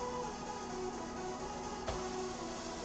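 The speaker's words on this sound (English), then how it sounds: "listen to the sizzle" Food hits a hot, smoking pan and sizzles, a steady bright hiss that holds evenly throughout with no voices.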